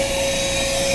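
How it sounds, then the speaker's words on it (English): A shop vac runs steadily at close range with a loud, even whooshing roar and a constant high motor whine, with no voices. "See if I can hear the shop vac."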